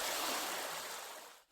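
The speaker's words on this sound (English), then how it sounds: "the waterfall of snow. You don't just see it, you enter it." Rushing water of a snowmelt waterfall, a broad steady hiss and roar at moderate distance that fades out abruptly near the end.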